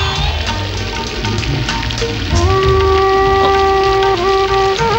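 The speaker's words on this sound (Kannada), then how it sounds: "ಮಳೆಯಲ್ಲಿ ನೆನ್ಕೊಂಡೆ ಹೋಗ್ತಾ ಇದ್ದೀರಾ?" Rain falls in a Kannada action film scene as a steady, loud hiss throughout, with sustained musical tones rising above it partway through.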